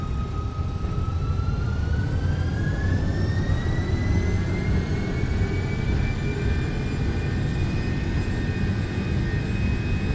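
Simulated airliner jet engines in X-Plane 12 spool up toward takeoff thrust, a steady loud roar with a rising whine climbing in pitch throughout, no voices over it.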